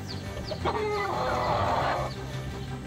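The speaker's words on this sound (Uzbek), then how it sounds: "O'rta Osiyoda hozirda yagona bo'lib turgan qora Fenikslar mana." Black Phoenix chickens cluck close by in a short, steady run of calls over a low farmyard background hum, with no voices.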